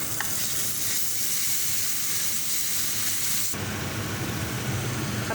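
Garlic and ginger hit hot oil, already seasoned with cloves and bay leaves, for a mutton kofta curry, giving a loud, continuous close sizzle that flares up sharply partway through and keeps hissing.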